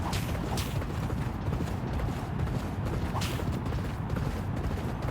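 Racehorse hooves pound in the Champion Jockey racing video game, a continuous, fast, thudding gallop with creaky, ratcheting clatter, even and loud across the whole stretch with no voices.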